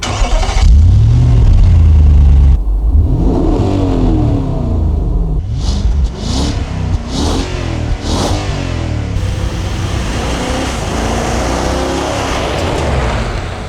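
A 2025 Nissan Patrol Ti V8 driving off, engine starting and revving up through several gear changes, loud and close with a rising and falling roar and steady road noise.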